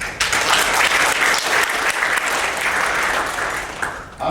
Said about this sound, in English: another applause for all the panelists